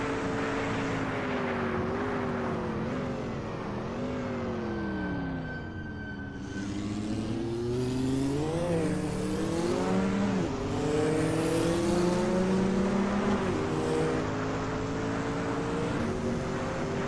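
A race car roars through the Mulsanne Kink at Le Mans in a vintage racing video game. Its engine runs loud and steady, with pitch rising and falling through gear changes and throttle swells and no voices.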